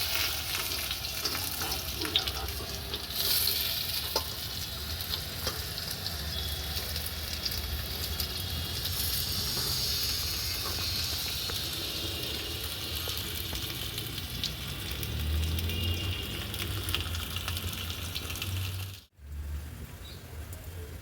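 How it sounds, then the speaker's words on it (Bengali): Whole cinnamon, cardamom and bay leaves sizzle and crackle steadily in hot mustard oil, a continuous close frying hiss that cuts off briefly near the end. "এই যে সর্ষের তেল দিচ্ছি, দারচিনি দিচ্ছি গোটা, গোটা এলাচ দিচ্ছি, তেজপাতা"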